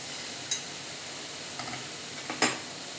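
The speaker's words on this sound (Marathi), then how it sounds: "आता मिक्स करून घेऊया" Paneer bhurji being stirred in a frying pan, a low steady hiss with a few brief spatula scrapes and taps.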